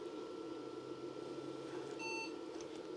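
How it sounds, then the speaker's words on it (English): An IBM Personal Computer XT 5160 gives a short electronic beep once during startup over a steady low hum of computer fans, with no talking. "Beep."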